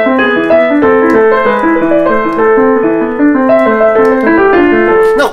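A flowing, classical-style melody played on a piano-like keyboard, with steady moving notes and chords throughout, loud and close.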